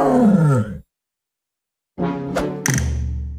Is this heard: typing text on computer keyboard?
no